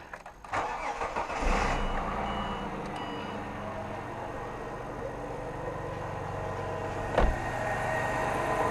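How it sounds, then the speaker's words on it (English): A Ford XR6 engine cranks and catches, then settles into a steady idle. A reversing beep sounds as the car is put into gear, followed by a short bump near the end, all fairly close. "So let's start the engine."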